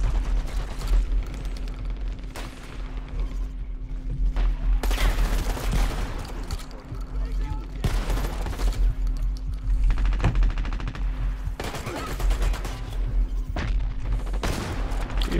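Shotgun blasts and other gunfire crack through a fast multiplayer shooter match, heavy booming shots arriving in rapid clusters over continuous battle noise and rumble.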